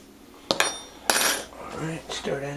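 A metal spoon clinks and scrapes against a container while stirring pectic enzyme into strawberry wine must, with a few sharp taps close up followed by softer swirling scrapes.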